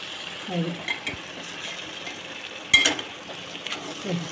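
A ridge gourd and egg curry is stirred and turned over in a pan, like flipping a roti: scattered scrapes and clinks of a utensil over a soft, steady sizzle, with a brief voice near the start and end.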